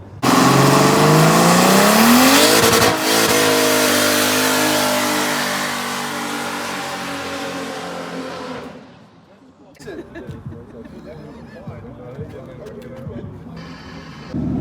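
A twin-turbo V12 Toyota Hilux doing a burnout, its engine revving loud and hard up close, then the roar trailing off and fading to quieter background noise with some talking.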